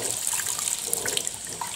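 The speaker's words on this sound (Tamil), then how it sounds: "புளி கரைச்சிட்டு இப்போ வந்து வடிகட்டிக்கலாம்." Dissolved tamarind water being strained while cooking goat trotter curry, a steady close splashing pour of liquid running for the whole short stretch, with no voices.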